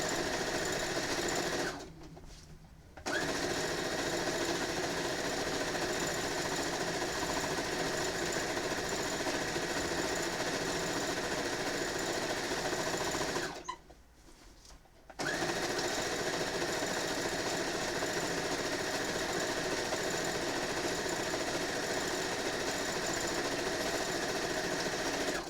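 A sewing machine stitching a large quilt runs in a steady, close, rapid mechanical whir, stopping twice briefly for a second or so before resuming at the same even pace.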